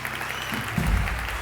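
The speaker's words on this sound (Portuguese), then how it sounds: "Aplauda bem forte Jesus." Brief burst of congregation clapping during a Portuguese-language church service, a short, roomy patter of applause with some low rumble.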